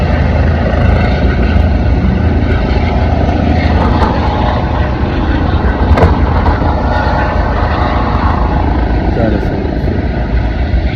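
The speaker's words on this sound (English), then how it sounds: "Okay, so we got a helicopter down there." A helicopter drones loudly and continuously, a thick rumbling wash with faint rotor chop that never lets up.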